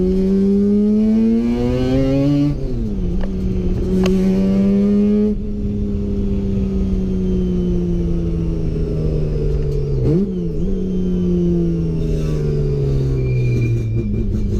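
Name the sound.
Toyota KE55 Corolla with 13B rotary engine driving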